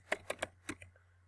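A web address is typed on a computer keyboard: five quick, close keystrokes in an uneven rhythm, then quiet, with a faint steady hum underneath.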